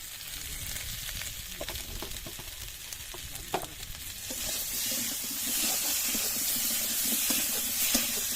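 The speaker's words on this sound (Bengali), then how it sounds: "এটা ভালোভাবে কষিয়ে নিলাম, মানে আলুটা সব কিছু মশলাপাতি দিয়ে এটা কষিয়ে নিলাম।" Potatoes sautéing with spices in a pan give a steady close sizzle and hiss, broken by scattered clinks and scrapes of stirring, the frying growing brighter and louder partway through.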